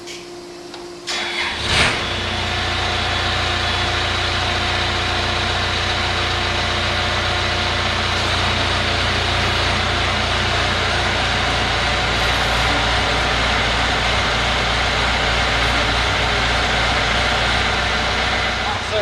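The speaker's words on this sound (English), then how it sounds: "we've got the skid steer cranked and we're sending fluid to our attachment." A skid steer cranks over and settles into a steady, loud engine drone, its auxiliary hydraulics feeding fluid to a Blastcrete RD6536 concrete pump attachment. The droning hum continues without a break for the rest of the clip.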